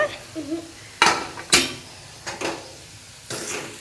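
Upma being stirred in a pan, several sharp scraping and clanking strokes of a utensil against metal at irregular intervals over a faint background sizzle.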